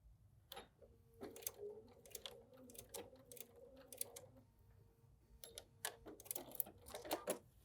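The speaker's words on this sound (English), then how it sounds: "I'm going to back stitch." A sewing machine back stitches fabric during foundation paper piecing, with quick bursts of needle chatter broken by pauses and soft handling clicks. It sounds close but faint.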